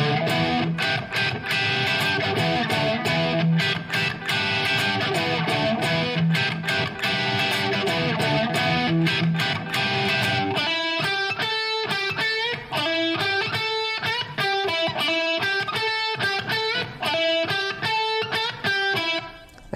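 Heavily distorted electric guitar plays the bridge phrase of a song, first as dense chugging riffs, then as sharper repeated bursts, loud and steady with no talking.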